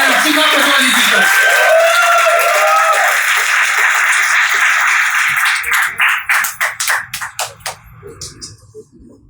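Audience applause at a ghazal and Urdu shayari performance. A voice talks over music at first, then a burst of clapping rises and fades into scattered, separate claps near the end.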